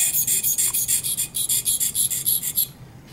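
A dental hand instrument is sharpened in short, quick back-and-forth strokes, a rhythmic scraping rasp of about fifteen even passes that ends abruptly.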